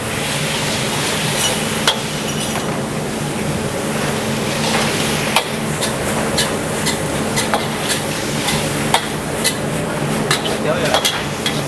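Kampung-style fried rice being tossed and stirred in a wok by a street vendor, a loud, steady sizzle broken by repeated sharp metallic scrapes and clanks of the spatula against the pan, with busy background chatter.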